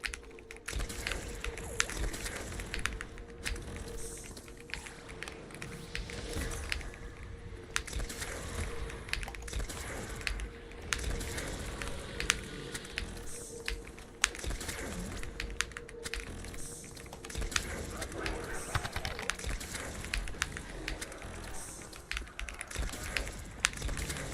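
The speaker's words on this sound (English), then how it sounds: "You can barely hear me beat my keyboard up." Rapid, forceful typing on a computer keyboard in a continuous clatter of dense keystrokes, close and fairly loud, during a round of an online game, with birds cooing faintly in the background.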